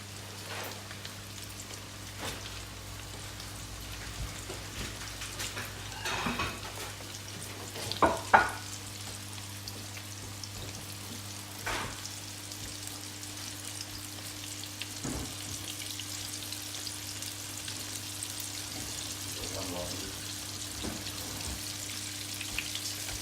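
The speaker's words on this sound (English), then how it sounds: "So just keep stirring. They shouldn't stick to each other if the oil is hot." Pieces of pork for sweet and sour pork fry in hot oil with a steady, dense crackling sizzle, broken by occasional scraping stirs from a slotted ladle or tongs, with no talking.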